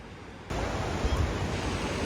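Ocean surf washes onto a warm sandy South African beach, a steady broadband rush that rises abruptly after a quiet start and holds loud and close, with no talking.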